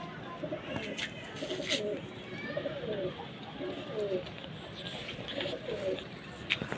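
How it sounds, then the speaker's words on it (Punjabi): Pigeons cooing nearby, several soft repeated low coos in a rolling rhythm, with someone talking faintly alongside. "ਇਹ ਵਗੀ ਕਬੂਤਰੀ ਆ"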